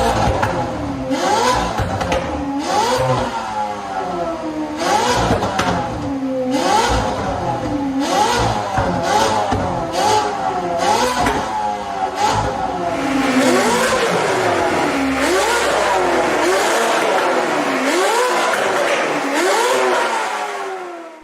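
Ferrari engine revving hard through its exhaust, a series of loud repeated rising and falling roars with brief pauses between, close and unaccompanied by talk.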